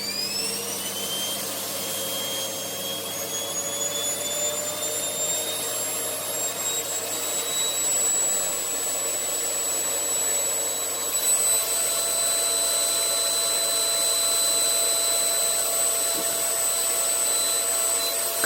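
Homemade dust collector built from a pail can with two cyclone units, running steadily as a loud, continuous vacuum-like whine and roar with a sustained high tone throughout, no talking.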